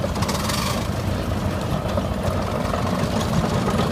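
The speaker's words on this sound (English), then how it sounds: "See the engine running and the front wheels are turning." A steam traction engine running at a steam rally parade, a loud steady low rumble with a continuous chuffing, mechanical texture close by and no one talking.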